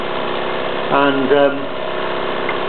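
A Wilesco D455 toy steam engine runs with a steady mechanical chuffing hum, rising briefly in the middle where a voice speaks a single word over it.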